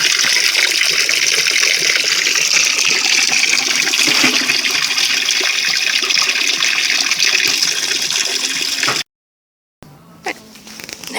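Tap water pours steadily into a garden pond on an allotment, filling and aerating it with a loud, continuous gushing rush. It breaks off briefly near the end, then a quieter trickle returns.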